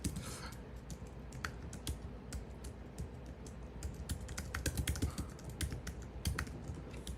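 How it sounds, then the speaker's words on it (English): Close, quiet typing on a computer keyboard, a steady patter of irregular key clicks with brief pauses and no voices. "It's actually not very easy for me to copy it, so I'll have to type it out"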